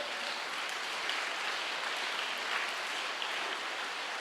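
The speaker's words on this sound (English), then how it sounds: "Shall we give a big round of applause for all the teachers?" A crowd at a polytechnic college function applauds its teachers with a continuous, even wash of clapping, like rain, that stays at a constant level from start to finish.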